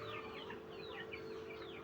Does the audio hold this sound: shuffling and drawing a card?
no